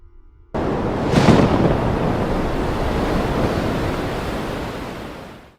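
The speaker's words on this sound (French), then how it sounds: "De hautes vagues déferlantes projetaient des gerbes d'écume en se fracassant contre les pontons" Tall breaking waves crash against pontoons and throw up spray at the ocean's edge. After a short quiet opening, the broad roar of surf rises sharply and then holds steady, loud and close, with wind noise mixed in.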